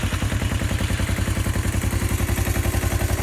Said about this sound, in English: this engine absolutely sounds perfect